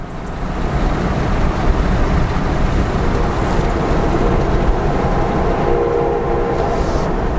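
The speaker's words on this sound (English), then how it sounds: "Looks like we got a train coming" A train rumbles past close by a road crossing, loud and continuous, with a rolling clatter of wheels on the rails.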